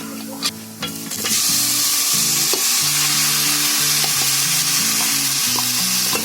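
Masala with raw garlic frying in a pot for a jackfruit curry, a loud continuous sizzle with a few stirring taps, over a repeating musical tune.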